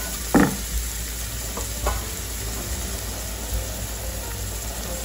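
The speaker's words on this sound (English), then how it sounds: "The mustard seeds are spluttering, so I'm adding the onion which was chopped" Mustard seeds splutter in hot oil as chopped onion goes into the pan, a steady close sizzle with a few sharp pops and light stirring clatter.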